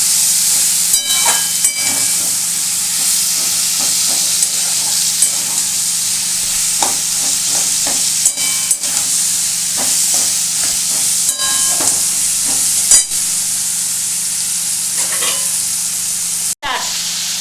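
Drumstick, potato and bean curry stirred in a pan, with a steady close sizzle and repeated scraping, clicking strokes of a spoon against the pan running throughout, no voices.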